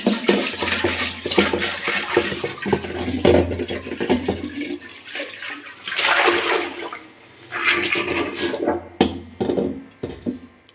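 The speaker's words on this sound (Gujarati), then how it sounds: "તો આ રીતના સ્ક્રબ વડે આપણે માટલાને ઘસી લેશું" An old clay water pot is scrubbed and rinsed with water, giving bursts of splashing, sloshing and rough rubbing that rise and fall close by, with short pauses between strokes.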